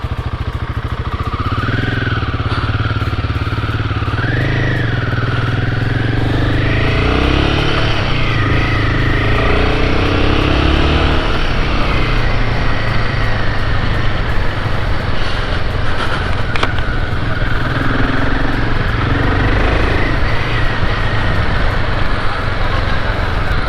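A Royal Enfield Himalayan 450 motorcycle rides in first gear, its engine droning loud and steady throughout with rising and falling pitch, mixed with wind rush and faint talk.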